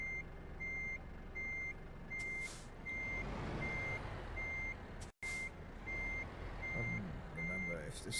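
In Euro Truck Simulator, a truck's reversing alarm beeps steadily in an even, repeating pattern under a low engine rumble, with a voice talking over it in places.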